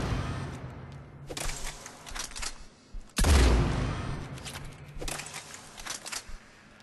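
Claymore shotgun fired from the hip in Mass Effect 3, with a few short gunfire bursts and one heavy, booming blast standing out midway among fainter shots.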